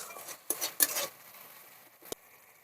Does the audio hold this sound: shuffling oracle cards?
no